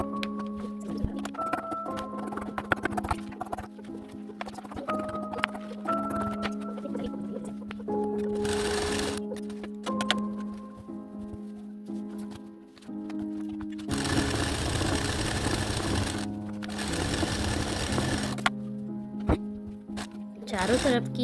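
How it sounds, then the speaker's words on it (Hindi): An electric sewing machine stitches around the edges of a woolen fabric bedsheet in several whirring bursts, the longest lasting a few seconds, over steady background tones. "अब मैं इनके चारों तरफ एक सिलाई और लगा लूँगी।"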